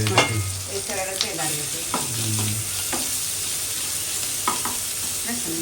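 Onion, green chili and garlic fry in hot oil as a tempering for a rohu fish curry with potato and eggplant, a close, steady sizzle with spatula clinks and faint background voice fragments.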